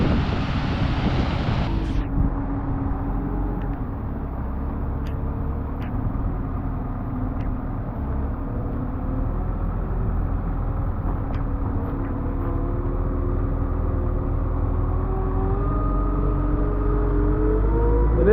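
A giant compact wheel loader scooping into a Triticale ag bag, its diesel engine droning steadily at close range with a low rumble and a slight rise in revs toward the end, no voices.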